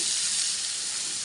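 Bacon frying in a pan while carrots go in, a steady, close, bright sizzle and hiss that holds even throughout with no talking.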